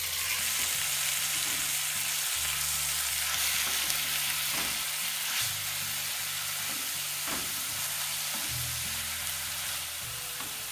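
Boiled red amaranth greens (lal shak) fry in a hot pan with a steady, loud sizzle and hiss, broken by recurring low scraping stirs, with no talking.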